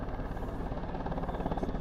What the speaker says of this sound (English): I'm talking helicopters flying over the water